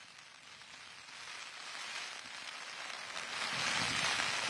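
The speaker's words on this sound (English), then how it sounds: "I see it's raining very heavily there" Heavy rain falls at an outdoor election reporting location in Edo State, a steady hiss that slowly swells louder, with no voices heard.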